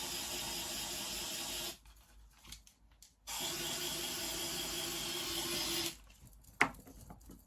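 Two long, steady bursts of deodorant spray hiss from an aerosol can, each lasting a few seconds, close and fairly loud, separated by a pause with small handling clicks and rustles.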